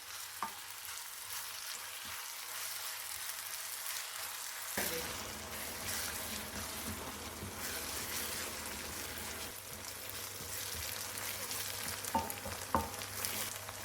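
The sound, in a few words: onions frying in a pan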